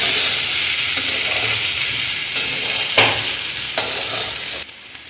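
Potato bhaji with two teaspoons of sugar being stirred in a pan: a steady frying sizzle and hiss with a few sharp spoon scrapes and knocks against the pan, then the sound drops off near the end.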